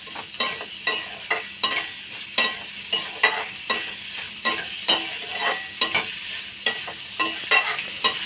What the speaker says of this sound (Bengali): সাদা তেলে পেঁয়াজ কুচিগুলো হালকা ভেজে তুলে নেব